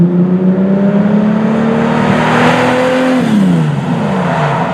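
A Lamborghini Diablo engine runs loud and close with a steady, droning tone, then the pitch drops as the revs fall off near the end.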